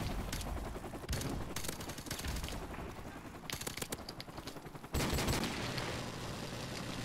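Rapid MP5 submachine gun fire in a first-person shooter, dense continuous bursts with short gaps, loud and sustained across the whole stretch, swelling louder near the end.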